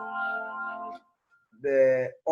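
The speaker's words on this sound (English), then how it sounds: "The synthesizer can give you the sound of the organ as well." Two sustained organ-like chords from a synthesizer, each held for about a second with a brief silence between, the second cut off abruptly.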